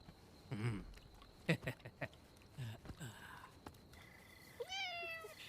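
A cat meows several times in quick succession, fairly close but soft, with short cries spread over a few seconds and a longer, higher-pitched mewl near the end against a quiet room background.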